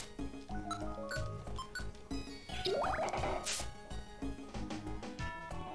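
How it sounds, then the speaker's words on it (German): In the Pokemon Mystery Dungeon game, the Bubble attack plays as a burst of bubbly, gurgling pops and a rising watery swoosh over ongoing game music, with no talk. "bei dir werde ich erstmal einen Blubber einsetzen"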